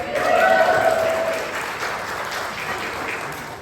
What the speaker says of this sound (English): Can we have a little cheer if anyone doesn't spray spiders?